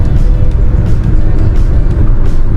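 A car cruising along an open road near Rishikesh, its engine and tyre rumble steady and close, with broadband road noise filling the whole stretch and no voices.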